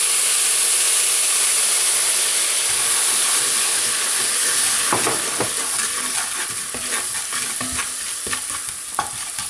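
Radish curry sauce bubbling in a pan gives a steady loud sizzle and hiss, broken later by scattered scrapes and clicks of stirring, with nobody speaking.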